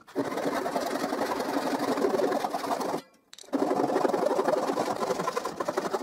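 A strip clamped in a homemade vise is cut at its marked corner by a motorized tool, a steady loud whirring drone that cuts out briefly near the middle, then resumes just as strongly.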